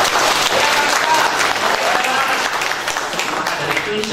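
An audience at a national seminar in Temanggung bursts into loud, sustained applause, a thick, even wash of many hands clapping throughout, with a few voices mixed in.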